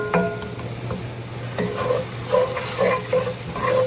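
Garlic frying in a hot pan while a utensil scrapes and stirs it in quick repeated strokes, with a constant sizzle underneath and the scraping sounds close and clear.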